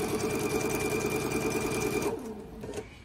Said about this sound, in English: I will continually sew all of those pieces together.